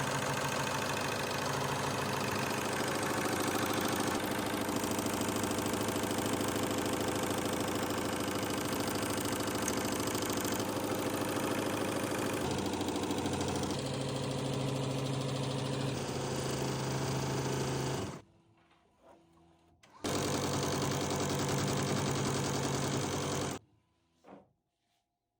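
An embroidery machine stitches a cap, a steady dense mechanical whir that runs continuously, loud and close, then briefly cuts out, resumes for a few seconds and stops again.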